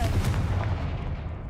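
Confringo fire spell explosion in Hogwarts Legacy, a short booming blast that rumbles low and fades within a second and a half.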